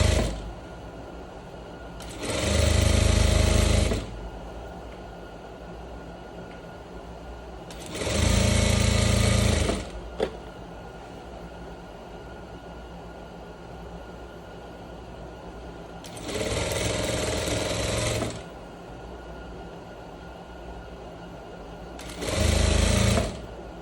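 Sewing machine stitching the crotch seam of pleated trousers, four loud bursts of rapid mechanical whirring a few seconds each, separated by quiet pauses with a single small click between, no speech.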